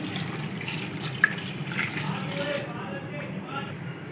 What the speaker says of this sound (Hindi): एक लीटर पानी डाल देंगे।